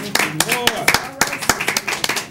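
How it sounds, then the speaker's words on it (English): A church congregation clapping in a quick, uneven rhythm of sharp, close hand claps, with voices calling out over and between the claps. "Give the Lord a hand clap for that."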